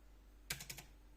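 A short burst of about four quick keystrokes on a USB computer keyboard plugged into a Dell E5520 laptop under repair, close and crisp against a quiet background.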